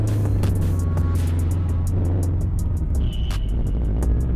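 A Subaru car engine revs hard on the throttle in the Philippines, a loud, steady low rumble that holds throughout with no voices.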